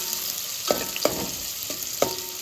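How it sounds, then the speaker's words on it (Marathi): Onion fries in hot oil in a pan, a steady soft sizzle. A stirring utensil taps the pan now and then in a few distinct clicks. "आता कांदा टाकून घेऊया आपण, थोडंसं तेल गरम झालेलं आहे। कांदा चांगला परतून लाल करून घ्यायचा"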